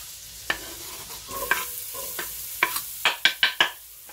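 Butter melting and sizzling in a cast-iron Dutch oven over a cabin fire, with a steady frying hiss broken by sharp scraping clicks from a homemade spatula that come quicker toward the end.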